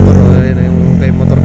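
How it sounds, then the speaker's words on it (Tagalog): A Kymco motorcycle engine runs loud and steady at close range on a river ride, its low drone constant throughout with slight revving swells, while people talk over it. "gamit namin motor"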